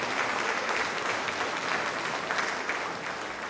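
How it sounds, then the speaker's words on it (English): Audience applauding a sixth grade school band: steady, dense clapping from a room full of people, loud and continuous throughout without any speech over it. "Give them a round of applause"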